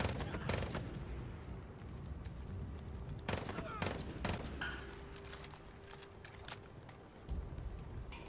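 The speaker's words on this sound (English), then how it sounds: "Someone shooting?" Gunfire in the Far Cry 5 video game: repeated bursts of shots and volleys sound at moderate distance over a steady ambient bed, spread across the whole stretch with no talk over it.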